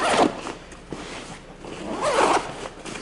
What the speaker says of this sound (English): So I run my zippers up top. You can unzip these